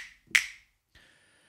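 A single crisp finger-snap sample from the Hand Clap Studio clap plugin, sharp and bright, followed by a short faint tail and a quiet trailing second transient.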